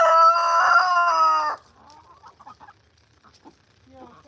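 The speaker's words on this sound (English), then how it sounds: "So that rooster that just crowed" Rooster on a Piedmont homestead lets out one loud, close crow lasting about a second and a half, followed by soft scattered clucks and chicken chatter.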